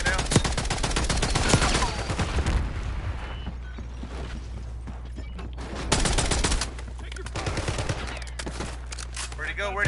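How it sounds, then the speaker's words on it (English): Heavy gunfire in the Black Ops 6 battle royale video game: dense bursts of automatic fire and scattered shots rattle nearby through most of the stretch, easing in the middle before picking up again, over constant background game noise. "They're outside shooting at me now."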